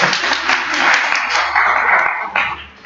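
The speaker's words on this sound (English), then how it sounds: "Y'all clap." An audience at an evening presentation in New Jersey applauds, a dense wash of clapping that holds steady for a few seconds, fairly close and moderately loud.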